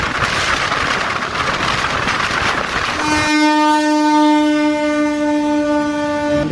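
A Bhubaneswar–Lokmanya Tilak Terminus express train thunders past close by, its heavy rolling rumble giving way to a long, loud, sustained horn blast.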